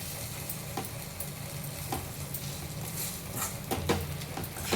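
Mango rice stirred in hot oil in a pan, a steady close sizzle with repeated scraping strokes of the spoon every second or so, no voices.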